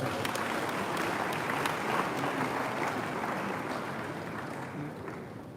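An audience at a university leadership talk claps for several seconds, a dense, fairly distant wash of applause that slowly fades toward the end.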